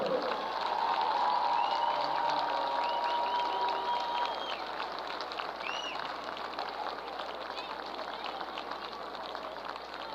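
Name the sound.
stadium crowd applause at halftime honoring announcer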